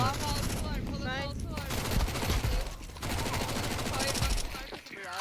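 Gunfire in Counter-Strike 2 during a FACEIT match: loud, dense bursts of automatic rifle fire that run almost without a break across the whole stretch, with only brief dips between volleys.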